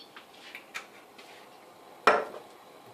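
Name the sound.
pan being handled for cooking bacon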